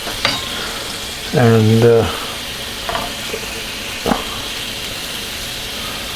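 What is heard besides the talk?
shrimp frying and browning in a pan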